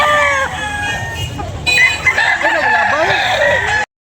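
Several roosters crowing at a chicken sale, loud, near and overlapping, with repeated drawn-out crows and some clucking over a busy background.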